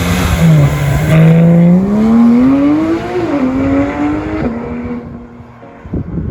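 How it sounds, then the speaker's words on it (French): Porsche 911 GT3 RS (991) engine and exhaust, loud and close, rising and falling in pitch as it revs through the gears with a sharp mechanical wail, alone without speech. "les deux sorties d'échappement sont très belles et offrent une sonorité exceptionnelle"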